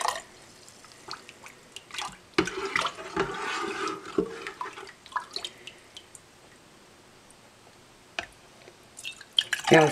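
Spicy pork ramen broth pours into canning jars in a series of liquid splashes and drips, moderately close, with quieter stretches between pours and no talking.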